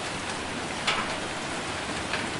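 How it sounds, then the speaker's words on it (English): Heavy rain pours steadily in a storm, a dense continuous hiss with a couple of brief louder gusts, close and fairly loud, without voices. "The rain gets thicker and the wind more violent."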